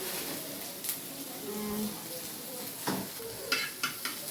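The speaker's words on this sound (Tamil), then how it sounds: "லைட்டாக வெங்காயத்தை இப்படி வதக்கிக்கணும்." Onion sizzles in a pan with butter as it is stirred for an omelette, a close hiss broken by spatula scrapes and light clinks, with brief speech in the background.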